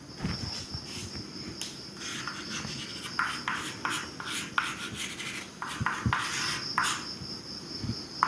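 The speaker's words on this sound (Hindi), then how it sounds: "इसको मैं इधर लिखता हूँ" A teacher writes on a board during a chemistry lecture, producing a run of close, scratchy and tapping strokes in irregular bursts over a faint steady hum, with no talking.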